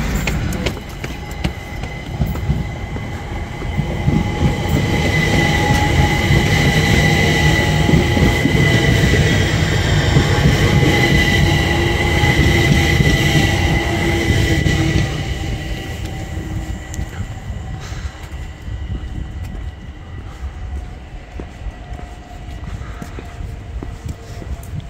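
A London Overground train pulls out of Willesden Junction, its loud rumble and rattling wheels swelling and holding for several seconds as it gathers pace, then easing to a softer steady running drone heard from inside the carriage.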